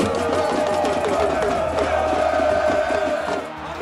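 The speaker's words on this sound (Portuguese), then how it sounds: "Depois de 90 minutos de sofrimento, finalmente veio o grito de gol." Brazilian football fans in Trindade, Goiás, roar and cheer a long-awaited goal during a World Cup match in Russia, a loud, dense crowd din of shouts and whoops sustained throughout.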